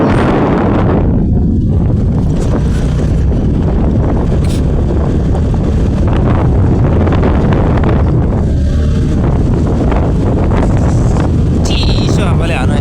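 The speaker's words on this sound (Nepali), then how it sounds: "चिसो हावाले हानु यार" Cold wind buffeting a microphone during a motorbike ride around Pokhara, a loud continuous roaring rumble with gusty surges throughout, close and dominant, with a voice faintly audible beneath it.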